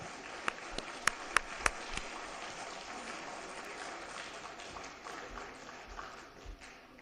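Audience applause at the Jashn-e-Salaam event, a soft steady wash of clapping from a crowd with a few louder individual claps standing out early, fairly distant and continuing throughout.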